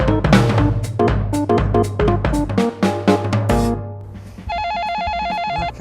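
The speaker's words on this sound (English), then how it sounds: "Oh, come on, pick up on the phone." A telephone rings with a warbling electronic trill near the end, following a stretch of loud, punchy music.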